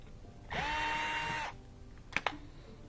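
A cordless screwdriver spins for about one second to back out a Phillips head screw from the bottom panel of a Miele dishwasher, followed by two small clicks, close and fairly quiet.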